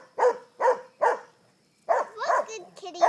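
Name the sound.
puppy barking at a snake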